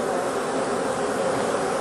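Honeybees hum around an open hive at a nursery apiary, a dense, steady drone of many wings close by, without speech.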